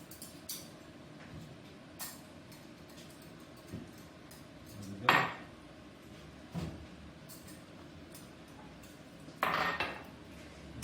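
Forks and pans clatter in a kitchen as containers of rice are handled for tasting, with a few sharp clinks and scrapes standing out over a low room hum.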